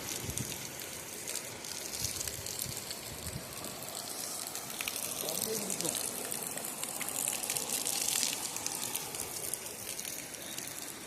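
Natural spring water from the mountains gushes and splashes steadily nearby, a constant rushing flow with a voice speaking over it.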